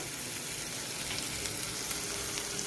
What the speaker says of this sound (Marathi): चला आपण आता छानपैकी परतून घेऊया मसाले